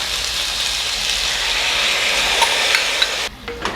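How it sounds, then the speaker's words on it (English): Spicy Korean sauce poured all at once onto potato slices browning in a hot pan, a loud, dense, steady sizzle and crackle that drops away abruptly near the end. "Pour in the sauce all at once."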